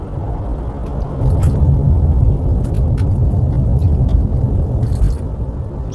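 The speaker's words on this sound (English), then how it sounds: "there's an impatient car behind me, so I'll let him overtake me" A car overtakes on highway number 1 in Western Australia, a steady broadband road roar that swells and holds as it passes close by, with no voices.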